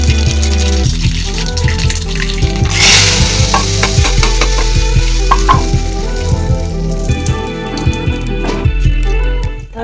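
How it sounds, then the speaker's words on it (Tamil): Cumin, fenugreek and dried chilies sizzle loudly in hot oil for a South Indian sambar tempering, a close, steady fry with spattering pops and a few spoon clicks, without talk. "காஞ்ச மிளகா போட்டு தாளிக்கணும்."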